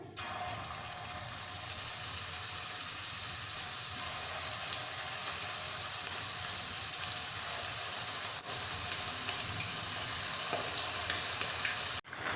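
Kofta meatballs of minced beef fry in hot oil with a steady, dense sizzle and crackle that holds close and loud throughout, with no talking.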